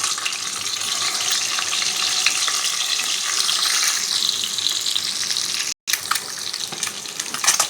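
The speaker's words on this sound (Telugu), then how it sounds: "మనం ఎగ్ వచ్చేసి కొంచెం ఫ్రై చేసుకుందాము." Eggs fry in hot oil seasoned with turmeric and salt, a loud, close, continuous crackling sizzle that cuts out for a brief moment before resuming.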